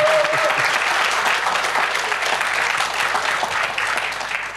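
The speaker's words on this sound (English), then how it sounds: "As this was your first presentation on stage, the applause is really important." A conference audience applauds after a security talk, giving dense, steady clapping that fills the room at an even level for the whole stretch, with no voices on top.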